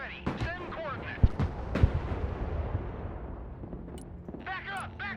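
Mortar artillery fire in the video game Broken Arrow, a couple of sharp booming thuds amid battlefield rumble, with radio-style voices talking over the action.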